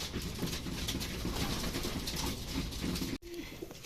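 Racing pigeons coo softly amid steady outdoor noise during club training in Sta. Rosa, Nueva Ecija, with a brief dropout near the end and no talking.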